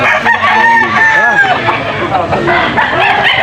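A rooster crows loudly and close, a long drawn-out call with other fowl sounds and background chatter around it.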